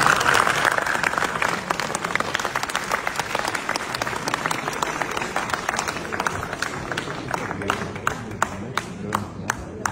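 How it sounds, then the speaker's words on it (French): An audience at an evening event bursts into loud, sustained applause, dense clapping that stays strong throughout and thins slightly toward the end, with a faint murmur of crowd voices underneath. "S'il vous plaît, acclamez très fort mon petit frère."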